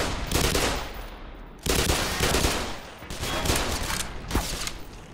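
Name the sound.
gunshots in Black Mesa video game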